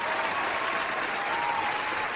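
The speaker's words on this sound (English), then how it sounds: "Can we get some applause in the chat?" A brief burst of crowd applause plays on request during a live stream, a dense, even patter of many clapping hands lasting about two seconds.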